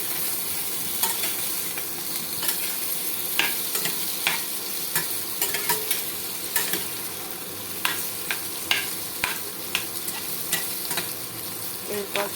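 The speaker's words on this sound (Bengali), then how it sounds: "প্রথমে আলুগুলো নুন দিয়ে এবং লঙ্কা দিয়ে ভেজে নিতে হবে।" Potatoes frying in a pan with salt and chilli, a steady sizzle under frequent scraping stir strokes close up, no talking.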